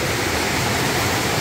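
Rushing muddy river current in winter, swollen by rain upstream and carrying mud and debris; a loud, steady broadband roar of churning water fills the whole clip with no let-up.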